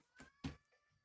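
A cat gives two short, faint meows in quick succession in a quiet room, followed by a softer trailing sound.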